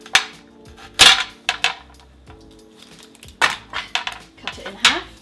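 A knife chops through a butternut squash on a board with a handful of sharp, separate thunks and clacks spaced irregularly, then quieter handling noises between the strikes.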